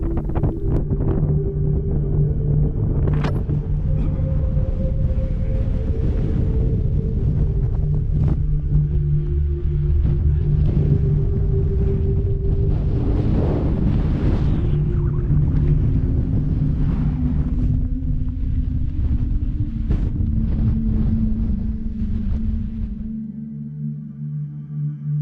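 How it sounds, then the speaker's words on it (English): Strong wind buffets the microphone at the hilltop summit of Holyhead Mountain near South Stack, Anglesey, a loud continuous roar and rumble with gusting surges and no voices throughout. "The wind was at its strongest at the summit, and it was a fight to get to the trig point."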